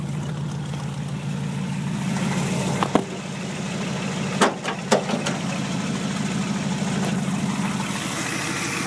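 An International Harvester 392 V8 in a 1975 pickup idles steadily, its engine bay messy and dirty, with a low even hum and a few brief clicks and knocks near the middle.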